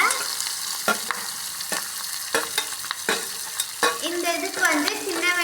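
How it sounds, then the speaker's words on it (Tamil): Onions and curry leaves sauté in a pan with green chillies for a village-style raw mango thokku, a steady sizzle broken by several sharp scraping stirs and a busier crackle near the end, heard alone. "இப்போ வெங்காயம் ஆட் பண்ணிக்கோங்க"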